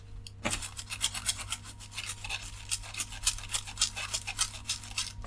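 A stiff toothbrush scrubs hardened flux off a circuit board, close and crisp, in rapid repeated back-and-forth strokes with a faint steady hum underneath.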